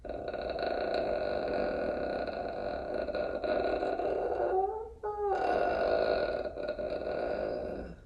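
A singer's relaxed burp during a vocal warmup, a drawn-out voiced belch with a brief break midway before resuming, heard alone without speech.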